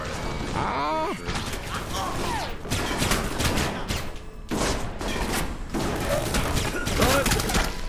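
Turret gunfire in the video game Alpha Protocol, dense bursts of shots and thuds crashing repeatedly throughout, loud and close, with some speech-like sound mixed in.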